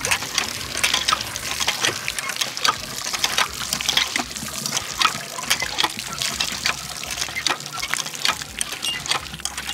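Water running steadily from an outdoor shower at a summer campsite in Antalya, a constant splashing and trickling spray that is moderately close, with no clear talking.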